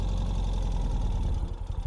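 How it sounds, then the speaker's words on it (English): Close, steady low rumble of a 2021 Ural Gear Up Heritage Hunter motorcycle engine idling, a smooth even throb with slight unevenness near the end and no talk. "As you can see, it idles beautiful."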